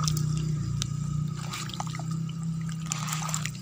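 Water pours and trickles onto garden plants during watering, a steady splashing flow over a low continuous hum, close and moderately loud without speech.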